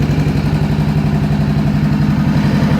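A 500 motorcycle engine runs loud and close with a steady, throbbing drone held at a constant pitch, without rises or falls.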